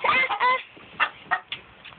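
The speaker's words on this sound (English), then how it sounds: "The evil rooster." A rooster's harsh, honking calls, a long strained cry followed by a few shorter squawks, fairly close by.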